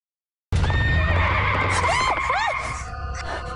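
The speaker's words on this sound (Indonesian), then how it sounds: "Tiba-tiba ada seekor kuda hitam lewat." A black horse whinnies loudly and close by with a few rising and falling calls, under a steady low rumble of movement as it passes on a road.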